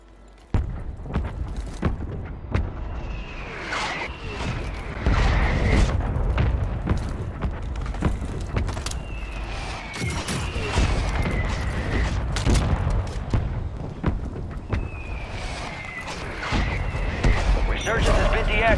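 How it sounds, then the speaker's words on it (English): Mortar strike explosions in Call of Duty: Warzone: three descending shell whistles, each followed by heavy rolling booms, arrive at steady intervals over a constant low battlefield rumble, with faint voices at times. "Friendly mortar strike on the way."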